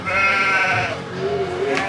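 A person imitates a sheep's bleat, a drawn-out wavering 'baa' with a nasal, trembling tone, sustained for about two seconds.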